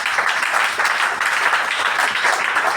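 Continuous applause fills a church as the congregation claps together during a Sunday worship service, a dense and steady roar of hands with no pauses.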